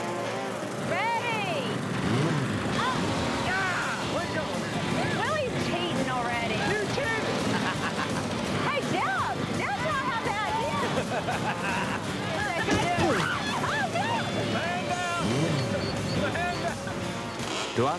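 Several riding lawnmower engines rev and drone together during a backyard race while excited voices shout over them, a busy, noisy outdoor scene.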